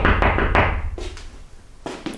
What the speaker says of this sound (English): Just have to knock at the window.